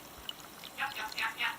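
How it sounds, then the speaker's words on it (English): Carrot and orange kombucha pours from a jar into a glass in a few short, close splashing bursts, with a quiet pause before the liquid starts to flow. "Pour me a glass."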